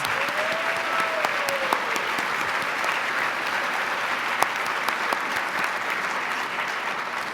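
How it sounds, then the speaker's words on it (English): Sustained audience clapping for a student opportunities panel at a scholars meeting, steady and even throughout with a few sharper individual claps standing out near the front. "please give them a hearty round of applause"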